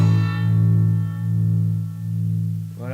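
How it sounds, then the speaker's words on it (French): Sustained electric guitar note pulsing through a tremolo effect pedal set to a slow rate, the volume swelling and dipping in an even, leisurely rhythm, close and alone. "Alors le trémolo, en fait c'est une variation de son, c'est-à-dire moins fort,"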